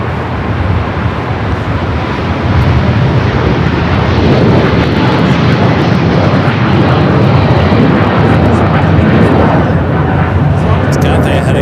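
A Cathay Pacific airliner at LAX gives off a loud, steady jet roar that swells after the first couple of seconds and holds, with talk faintly under it.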